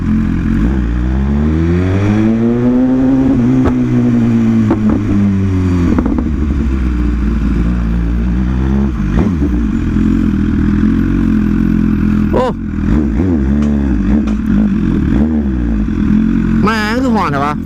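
A vehicle engine in neutral is gunned hard, rising and falling in long loud revving sweeps with a rough idle between bursts, close and dominant, with someone talking over it.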